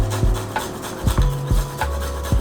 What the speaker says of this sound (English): So I'm grating it because I want the garlic to be really fine